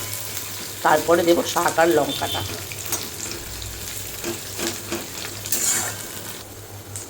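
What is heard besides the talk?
onions frying in a pan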